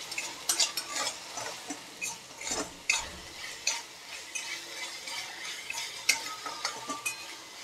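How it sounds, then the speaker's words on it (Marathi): Spices are stirred in a kadhai with a spoon, sharp scraping strokes repeating in an irregular rhythm over a faint sizzle, close and fairly quiet with no talking. "तर 2 मिनिटं मसाले शिजून घ्यायचे"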